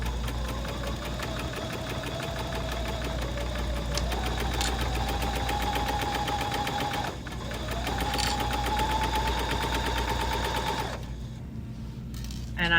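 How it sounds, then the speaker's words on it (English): A sewing machine top stitches around raw fabric edges with a fast, steady mechanical whir and motor hum, briefly slowing and restarting partway through, then stopping near the end; loud and close. "I am just gonna top stitch all the way around this"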